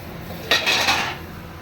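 A spoon stirring mutton curry in a cooking pot, one short scraping clatter of metal against the pot, close and fairly loud over quiet kitchen background.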